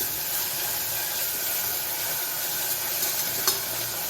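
Ginger garlic paste frying with onions in a hot pan, a loud, even hiss and sizzle held throughout with a small sharp pop near the end, no talking.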